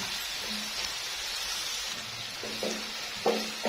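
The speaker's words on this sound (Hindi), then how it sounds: "ये प्याज को थोड़ा सा हमने फ्राई कर लिया है।" Onions frying in a pan with cumin seeds give a steady, close sizzle with light crackles, and a few sharper stirring clinks come near the end.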